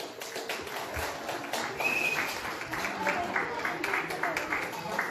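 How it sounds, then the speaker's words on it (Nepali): Guests at a silver wedding anniversary celebration clap steadily, a moderate ripple of applause mixed with taps and background chatter, heard from within the room. "जोरदार ताली"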